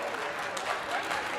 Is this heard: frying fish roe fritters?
no